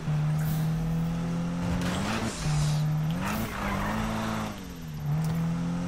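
A car drifting in the racing game Need for Speed 2015, a steady engine hum with long tire squeals rising and falling as the car slides through a turn, loud and close throughout.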